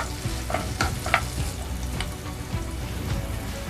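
Shallots sauté in hot oil for a squid fry, a dense, close sizzle with repeated scraping and stirring strokes of a spoon across the pan.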